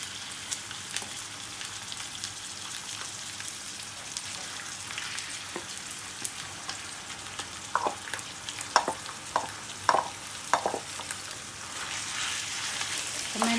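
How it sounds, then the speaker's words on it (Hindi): Minced meat fries with onions and garlic-ginger paste in a pan, a soft steady sizzle broken by scattered clicks and scrapes of stirring, quiet and close, with no voices. "तो मैंने इसे अच्छे तरीके से फ्राई करना है कीमे को, प्याज़ों के साथ, लहसुन अदरक के पेस्ट के साथ"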